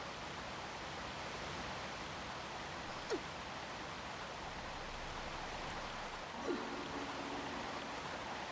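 Waterfall in a video game, a constant broad rushing hiss of falling water at a soft, even level, with a couple of faint brief game blips over it.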